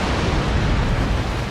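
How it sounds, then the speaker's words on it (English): Loud, dense roar of a warship blowing up as fire reaches its powder stores in the Napoleon Total War naval battle game, a sustained broadband blast with rumbling low end and no speech. "And the fire reaches his powder stores and he explodes."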